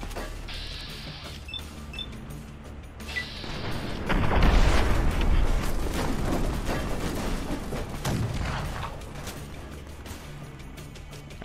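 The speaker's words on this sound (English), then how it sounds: "Why was there an explosion?" Explosions and gunfire in the video game Fallout: The Frontier mod: a loud booming blast erupts midway, followed by a rumbling, crackling tail and a second burst shortly after, over quieter game ambience.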